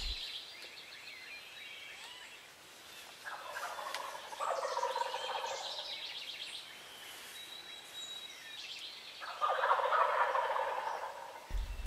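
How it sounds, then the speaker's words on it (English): Wild turkeys roosted in trees above a hunting blind in spring burst into rattling gobbles, several distinct volleys at moderate distance separated by quieter stretches of faint birdsong and morning ambience. "we actually had turkeys roosted right above us"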